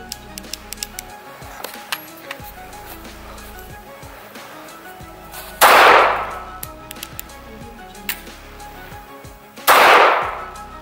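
Two sharp pistol shots fired with the gun gripped by only two fingers of the left hand, spaced about four seconds apart, each a loud crack with a short decaying tail over faint background clicks and shuffling.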